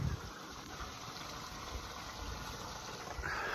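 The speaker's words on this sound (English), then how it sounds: "That's a little waterfall there." A small farm waterfall splashes and gushes in a steady, faint continuous rush heard alone, with no talk over it.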